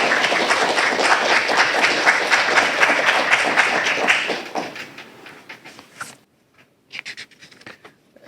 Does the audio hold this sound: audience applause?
yes